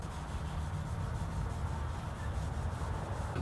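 Sandpaper rubs steadily back and forth over zebra wood machete handles during final hand sanding, a continuous close, even scratching with no pauses or voices.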